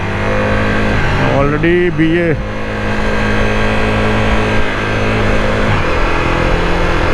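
Two cars accelerating and revving hard on Old Airport Road, heard from a Ducati motorcycle riding alongside, engine notes rising in pitch and sweeping past close by, with a brief spoken word over the roar.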